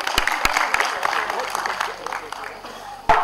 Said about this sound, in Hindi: सर जी के लिए एक बार जोरदार ताली होनी चाहिए